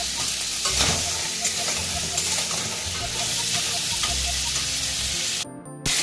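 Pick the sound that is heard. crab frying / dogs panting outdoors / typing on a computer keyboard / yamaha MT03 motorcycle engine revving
crab frying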